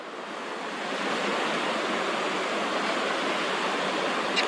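Incoming tide with ocean waves washing ashore, a continuous dense rush of surf that builds slightly in the first second then holds steady, fairly close and alone.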